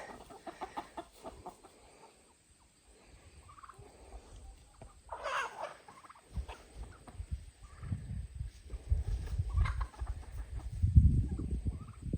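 Turkeys gobble and chickens cluck nearby, scattered calls over a low rustling outdoor background, growing busier toward the end.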